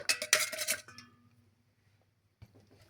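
Scraping and clinking of a utensil stirring cake batter ingredients with milk in a bowl for an Egyptian cake, loud and busy for about a second, then a long pause before a brief faint scrape.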